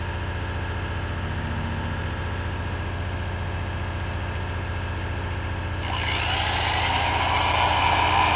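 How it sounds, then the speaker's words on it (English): An electric sander powered through a power inverter starts near the end, a sudden bright whirring that rises over a steady low motor hum running throughout. "here's a sander."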